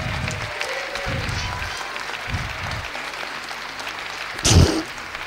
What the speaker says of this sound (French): ils ont tellement applaudi fort